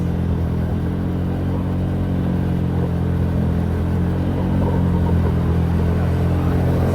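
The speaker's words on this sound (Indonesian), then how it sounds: "Jadi suara knalpotnya adem sih, enak." A Honda Vario scooter with a modified exhaust rumbles steadily while being ridden, a continuous low engine drone with a slight rise in loudness toward the end, and no talk.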